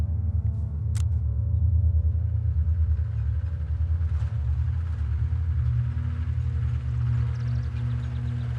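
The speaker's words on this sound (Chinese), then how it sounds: "等鬼子汽车进入雷区再开火" A military truck approaching on a battlefield road: a steady low engine rumble with a droning, slightly pulsing hum holds at an even, fairly loud level throughout, with a faint click near the start.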